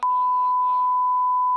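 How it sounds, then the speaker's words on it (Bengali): Censor beep inserted in editing: a single steady pure tone held for about a second and a half, loud and alone, cutting in and out abruptly. "এটা আমাকে আবার বিপ মারতে হবে।"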